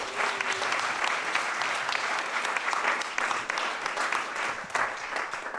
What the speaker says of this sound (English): So we give us a little round of applause and a moment of appreciation.